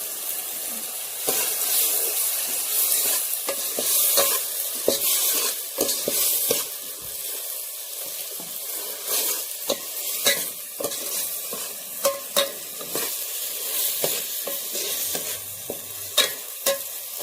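Onions and tomatoes sizzle and crackle steadily in a hot pan for egg curry while a utensil stirs in turmeric and asafoetida, with frequent scraping clicks against the pan.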